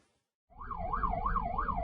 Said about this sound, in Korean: 사이렌을 울리며 달리던 구급차가 멈춰섭니다.